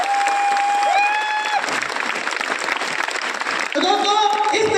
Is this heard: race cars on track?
no